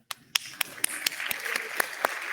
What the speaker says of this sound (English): So big applause for that.